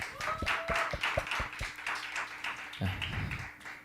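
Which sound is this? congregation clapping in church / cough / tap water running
congregation clapping in church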